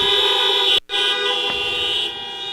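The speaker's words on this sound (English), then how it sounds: "So give her a honk." A sustained, loud horn-like toot fills the hall from the audience, with a brief cut-out near the start before the steady blaring tone resumes and carries on to the end.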